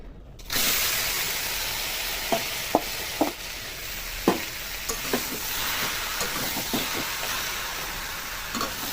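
Chicken pieces hitting hot oil with whole spices in a wok, a steady loud sizzle broken by sharp spatters and pops as the meat fries.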